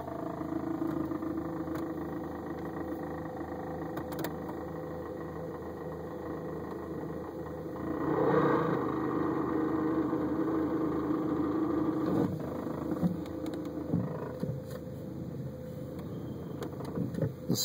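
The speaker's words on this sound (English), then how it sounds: "This is the car backing up." A 2002 VW Jetta backing up in reverse, its steady engine drone joined midway by a louder whining, grinding noise that swells briefly, then settles into a sustained mechanical tone with some clunks near the end.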